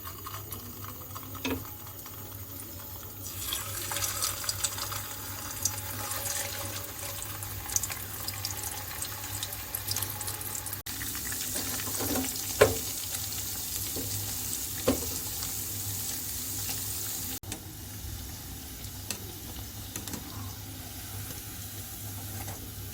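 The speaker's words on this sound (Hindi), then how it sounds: "चंदन कबाब को शैलो फ्राई करेंगे।" Chandan kabab shallow frying in hot oil in a home kitchen, a continuous sizzle with occasional sharper crackles and pops over a low steady hum, heard alone.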